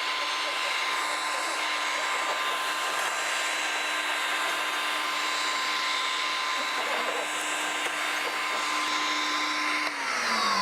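A floor polishing machine runs a flood rinse pass with premium polishing powder. Its motor gives a loud, constant whine over a low hum, held steady for the whole pass and dipping briefly near the end.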